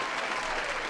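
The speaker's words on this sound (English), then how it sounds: "I'm going to give the man a round of applause for that" A round of applause on a hockey talk podcast, dense steady clapping filling the short moment at even loudness with no pauses.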